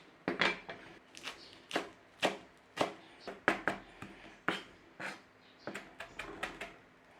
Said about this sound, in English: I'm going to give those a little chopping through.